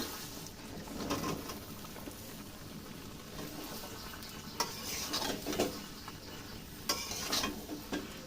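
Pointed gourd and potato pieces frying in a pan, a quiet ongoing sizzle with a few sharper scrapes and clatters from stirring, heard close but soft, with faint background hiss and no talking.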